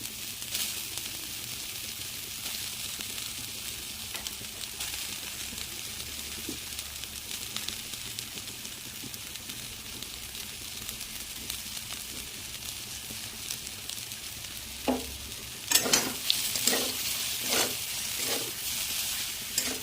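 Soybean chunks and potatoes fry in a pan with a low, steady sizzle, then stirring near the end brings a burst of louder scraping and crackling strokes.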